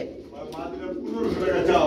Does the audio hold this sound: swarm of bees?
no